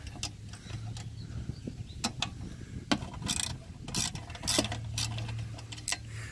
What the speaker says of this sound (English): Put the ratchet back on.